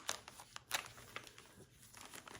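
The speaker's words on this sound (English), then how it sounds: "I'm taking the cover page out of the bag" An antique cover page slides out of a plastic bag with faint, close crinkling and rustling in short bursts over a quiet background.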